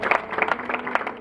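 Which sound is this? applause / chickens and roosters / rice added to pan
applause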